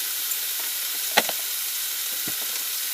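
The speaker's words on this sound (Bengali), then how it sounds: "আপনারা দেখতে পাচ্ছেন কুমড়ো আলুটা একটু নেড়ে নিচ্ছি" Young pumpkin and potato sizzling in a pan while being stirred, an even dense hiss broken by a couple of sharp utensil scrapes, near and without speech.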